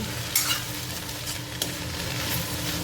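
Okra curry, just tempered in ghee, sizzles steadily in the pan, with several sharp stirring scrapes cutting through the continuous hiss; nobody speaks.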